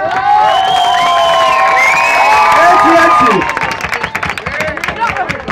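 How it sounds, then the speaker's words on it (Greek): A live concert audience at Flamingo claps and cheers loudly, with shouts and whistles over sustained applause that thins into scattered clapping as a voice speaks. "Ένα χειροκρότημα"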